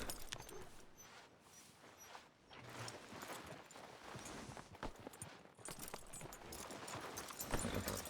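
Horse hooves clopping at a walk in the video game Red Dead Redemption 2, a quiet, irregular run of soft hoof thuds with faint tack and gear rattles over an ambient outdoor bed.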